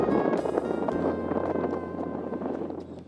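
Gusty wind buffets the microphone on a frozen lakeshore at Ma-Me-O Beach during winter pier removal, a steady loud rumbling roar that holds for the whole stretch with no voices.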